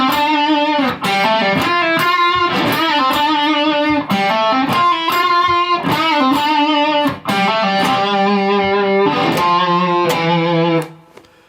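An electric guitar with distortion plays a solo, a run of picked sustained notes with bends and pull-offs, loud and close, ending on a held note that cuts off, no talking.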